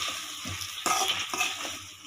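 Colocasia pieces roast in a pan while a spoon stirs and scrapes them in a few quick strokes over a soft, close sizzle, with no talking.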